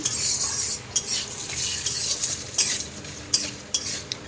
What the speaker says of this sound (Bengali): এইদিকে কড়াই বসিয়ে দিয়েছি তেলে দিয়ে দিয়েছি বাদাম